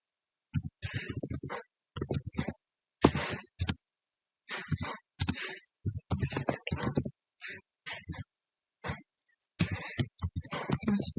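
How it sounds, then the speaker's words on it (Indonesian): Typing on a computer keyboard in bursts of rapid clicking keystrokes, close and clear, split by short silent gaps, with a voice speaking at times during the typing. "Di sini saya buat master, jadi saya ketikkan master di sini"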